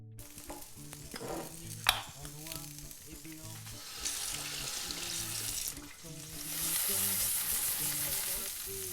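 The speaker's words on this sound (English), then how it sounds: "We are going to cook them in a frying pan with a bit of olive oil, salt and pepper." Asparagus fries in olive oil in a frying pan, a steady crackling sizzle that grows louder toward the end, with soft music playing underneath.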